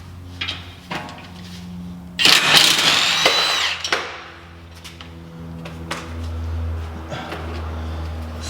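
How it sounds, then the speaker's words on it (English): A power tool spins a bolt off an E53 BMW X5 4.8is, a loud whirring burst with metallic rattles in the middle, framed by quieter clanks and handling noises in a garage. "So if you have a power tool, it goes fast. So I'll do the bolt."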